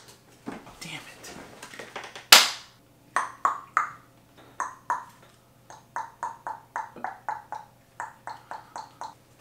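Sharp single hand claps come in uneven bursts, close and crisp, several spaced groups of quick claps with quiet gaps and faint talk around them.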